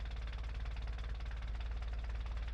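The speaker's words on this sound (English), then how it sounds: "Well, this engine has a bit of a problem with turning on." A car engine in BeamNG.drive cranks and knocks without catching, making a steady, fast, loud mechanical chugging that runs throughout with no voices.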